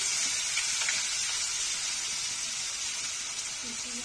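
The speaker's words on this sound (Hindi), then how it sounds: "प्याज को भून लिया अच्छे से" Steady sizzling and crackling of onions frying in hot oil, a continuous bright hiss with faint stirring.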